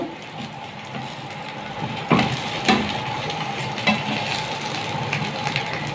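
Sandwiches toasting in a pan on the stove give a steady low sizzle with a few sharper clinks and scrapes from turning them, close by and moderately loud.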